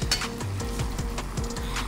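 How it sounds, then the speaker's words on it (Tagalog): Tuslob buwa, a Cebuano pork brain gravy, bubbling and sizzling in a pan, a close, steady crackle with soft popping bubbles and faint scraping. "Ayan, tignan mo yung ano, kumukulo."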